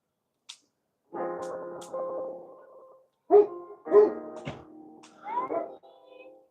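Dogs bark and yip in short bursts, a single faint yelp first, then several louder, overlapping barks at moderate distance with gaps of quiet between them.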